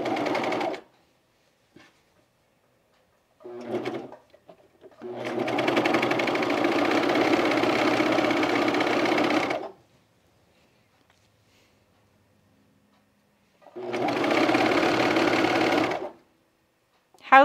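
A serger sewing machine stitches a seam on pajama bottoms in short bursts, a fast rattling whir running several seconds at a time, separated by quiet pauses and a brief stutter of stitches.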